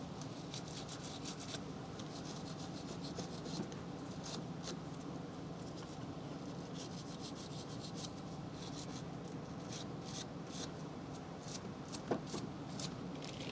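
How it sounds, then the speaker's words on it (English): Handheld wire brush scrubbing corrosion from battery cable connectors on a 1987 Jeep YJ, a quiet, steady rasping rub with rapid repeated strokes, close and without talk. "I'm going to clean up the other pieces that hook up on the battery side, just a wire brush manually, just to remove any corrosion"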